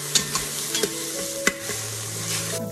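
Soaked peanuts go into a hot pan of oil and ground chili for buckwheat khichdi, with a steady sizzle and a few sharp scraping stirs of the spoon, close and alone.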